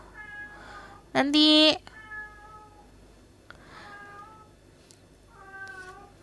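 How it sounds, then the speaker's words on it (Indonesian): Cat meowing indoors during a tarot reading, a few drawn-out meows, one loud close burst in the middle, mixed with someone talking. "Kalau kalian dengar suara kucing, abaikan aja"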